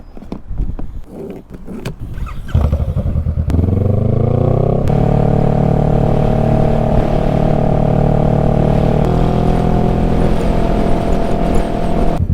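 A motorcycle used for food delivery starts up and settles into a loud, steady engine drone close by, with a rising pitch as it gets underway and no talking.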